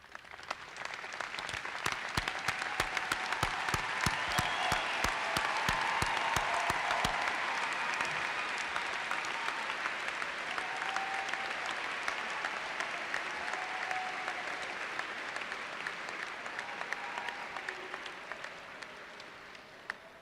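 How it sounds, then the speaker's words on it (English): A standing audience at a medical school white coat ceremony applauds families and friends, sharp individual claps at first building into a sustained, dense round of applause that gradually tapers off. "Please rise and give them a round of applause."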